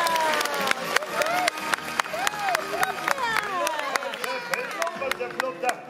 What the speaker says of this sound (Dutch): Geef hem een daverend applaus